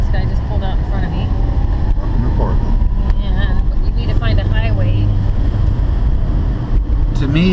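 A new manual car drives along with a steady low engine and road rumble, the engine tone rising and falling through gear changes, while a passenger and driver talk over it inside the cabin.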